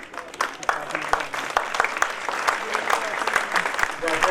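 Indoor audience at an Arya Samaj foundation-day gathering applauding to welcome a guest, a dense patter of clapping with a voice briefly audible over it.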